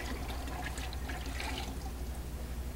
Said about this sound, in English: dump the rest of the gallon of pearl into the koi